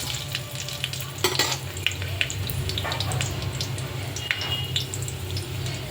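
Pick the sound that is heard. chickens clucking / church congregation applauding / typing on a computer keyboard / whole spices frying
whole spices frying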